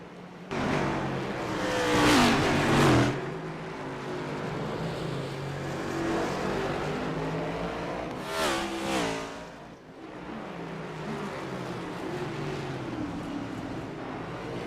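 Race car engines in a NASCAR Next Gen sim racing game at COTA during pace laps, a steady layered drone of several cars with two louder revving swells as cars pass close by.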